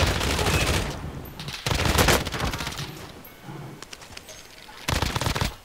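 Bursts of automatic gunfire rattle in Call of Duty Modern Warfare (2019), loud rapid volleys broken by short pauses with scattered single shots, and a player talks briefly between them.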